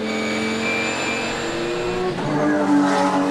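Supercar Challenge GT race cars at Assen circuit, a Volvo among them, howl past with a steady engine note and a sharp tyre squeal as one drifts wide through a corner, loud and close with no talk.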